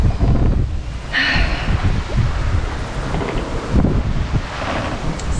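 Strong wind buffets a single-handed sailboat out at sea as a line of squalls approaches, a continuous loud roar with gusting surges and water noise underneath, no speech.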